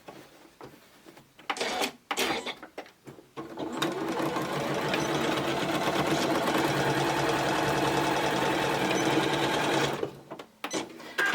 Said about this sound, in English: So we're just going to sew straight along this line.